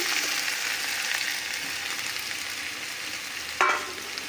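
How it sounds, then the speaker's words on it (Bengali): Boiled vegetable stems dropped into fried spice paste for a shrimp data chorchori, giving a soft continuous sizzle at moderate distance with a sharp clatter near the end, no talking. "এবার এই সিদ্ধ করে রাখা ডাঁটাগুলোকে আমরা দিয়ে দিচ্ছি"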